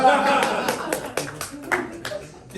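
Comedy-show audience clapping, scattered claps and taps mixed with a talking voice.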